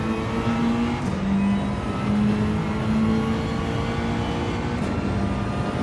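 Race car engines from an online daily lobby race in a racing video game hold a loud, continuous drone, stepping up in pitch through several gear changes, with no talking.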